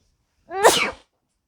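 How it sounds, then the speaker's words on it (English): A single short, high-pitched sneeze, close and clear, in otherwise quiet surroundings. "Such a cute sneeze."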